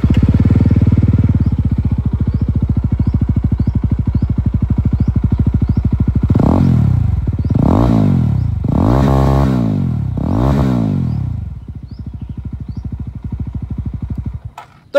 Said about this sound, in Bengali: চলুন তবে এই যে এক্সস্ট সাউন্ড সেটাও আপনাদেরকে আমি এখানে একবার শুনিয়ে দিই